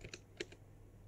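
Typing on a computer keyboard while installing a Linux desktop, a few quick, quiet key clicks close by in a short burst, then near silence.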